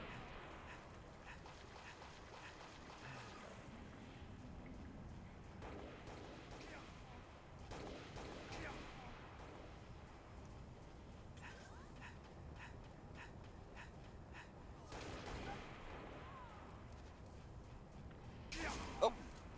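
Gunfire in the Halo: Reach video game, rendered as scattered game shots and bursts over a steady ambient bed, with one sharp louder shot near the end.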